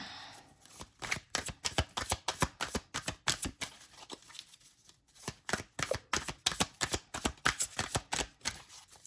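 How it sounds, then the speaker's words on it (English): Tarot chakra cards shuffled in rapid bursts of crisp riffling flutters, close and fairly quiet, pausing briefly midway before continuing with no talking. "But let's see what the cards say."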